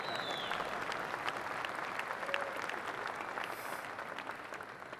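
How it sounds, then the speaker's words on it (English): An audience at the ITU Telecom World 2018 conference opening speech gives steady, moderate applause, a continuous even patter of many hands clapping throughout, with no talk over it. "I thought that would elicit much better applause than what you are giving now."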